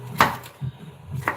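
A knife cuts through a bell pepper on a board, giving two or three crisp, close chops with short quiet gaps between them in a kitchen.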